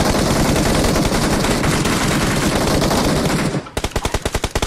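Sustained automatic gunfire between teams in a shooting video game, a dense continuous roar of rapid shots that breaks into distinct separate bursts near the end, loud and with no talk over it.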